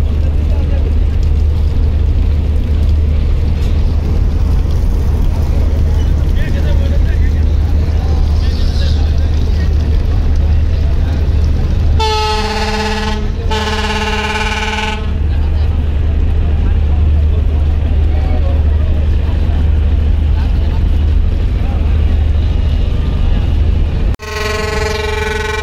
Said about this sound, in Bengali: যুবরাজ 7 লঞ্চের পিছনে আরও একটি লঞ্চ ব্যাক গিয়ার করে অলরেডি চলে আসতেছে।